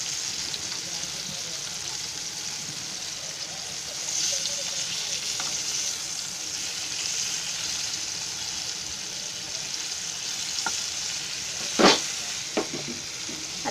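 Garfish fillets frying in a pan give a steady, close sizzle that fills the whole stretch, with a few sharp clinks of a utensil or pan near the end and no one talking.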